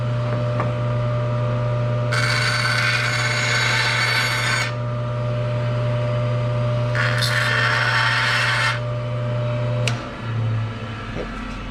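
Hand saw cutting a wooden cutting board, with two bursts of rasping strokes, a longer one and then a shorter one, over a steady low hum. No one speaks.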